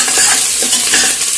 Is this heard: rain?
no